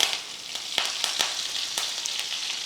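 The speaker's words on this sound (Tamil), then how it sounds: "கடுகுழுந்து பொரியட்டும் நல்லா பொரிஞ்சதுக்கப்புறம்" Mustard seeds and urad dal spluttering in hot sesame oil, a continuous close sizzle broken by scattered sharp pops and crackles, with no voices.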